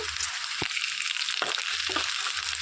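Washed curry leaves drop into hot oil for a tamarind yam curry, giving a steady close sizzle and frying hiss with a few light knocks of a utensil.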